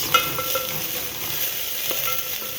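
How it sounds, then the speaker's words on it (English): Green onion being stirred into onions frying in a pan for a homemade Indian daal meal, with a steady close sizzle and faint scraping from the stirring. "I'm going to put in a touch of the green onion and mix it a bit"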